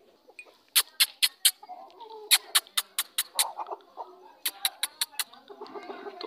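An Aseel fighter rooster clucks close by in quick bursts of short, sharp calls, with soft sounds in the pauses between.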